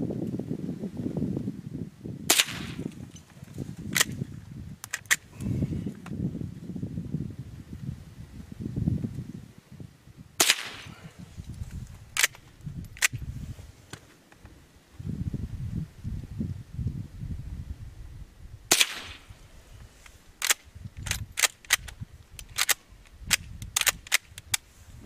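A .22 Winchester rifle, including a Model 90 and a Model 62 A, fires outdoors in sharp, loud single cracks at irregular intervals, with several shots in quicker succession near the end over low rustling and wind.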